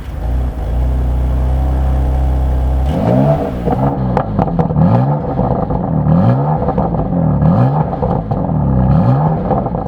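Stock-exhaust BMW M2 Competition with a 410-horsepower engine revving loud and close, a steady low idle rumble giving way to a run of repeated sharp throttle blips that rise and fall in quick succession.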